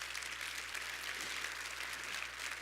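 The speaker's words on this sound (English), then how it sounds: "Give him a round of applause" Steady applause from a crowd at a State of the City address, a dense, even patter of clapping that holds at a constant level, with no voices over it.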